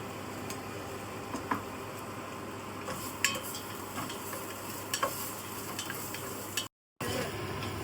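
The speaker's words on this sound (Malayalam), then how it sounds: "ഹോൾ സ്പൈസസും ചോപ്പ് ചെയ്ത അണിയനും സോട്ടായിട്ടുണ്ട്." Whole spices and chopped onion sauté in a pan for beef biryani, a faint steady sizzle with scattered light clinks and scrapes of stirring, fairly quiet, with a brief dropout near the end.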